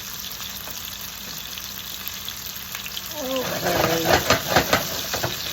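White wine poured into a pan where swordfish is frying, Sicilian alla Messinese style, turns a steady low sizzle into a louder bubbling hiss with crackling pops, and someone speaks briefly over it.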